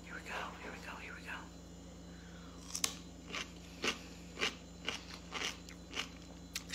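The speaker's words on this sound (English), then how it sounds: "Still has a good crunch." Someone bites into a Persian cucumber kosher pickle brined with garlic and peppercorns. A single sharp crunch is followed by a run of close, crisp chewing crunches at a steady rhythm, after soft talk at the start.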